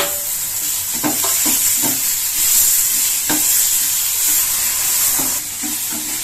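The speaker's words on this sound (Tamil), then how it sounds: "வெங்காயம் போட்டு கொஞ்சம் லேசாக வதக்கிட்டு அப்புறம் தக்காளி சேர்த்துக்கலாம்" Onions and tomatoes sautéing in a pan make a loud, close sizzle, broken by a series of spatula scrapes and taps against the pan in irregular bursts, with no talking.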